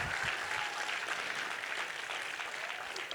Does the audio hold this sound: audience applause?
yes